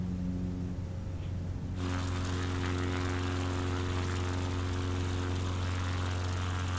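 Small airplane in flight over lakes and roads near Manitowish, its propeller engine droning loud and steady with a strong low hum, swelling louder partway through and holding there.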